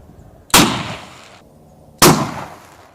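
A Mossberg 500 Cruiser shotgun fires two incendiary rounds about one and a half seconds apart, each a sharp, loud blast followed by a short fading roar.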